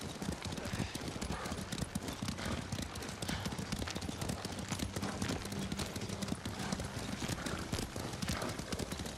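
Horses gallop in Ghost of Tsushima, a steady, loud stream of rapid hoofbeats filling the whole stretch with dense, continuous clatter and no talk.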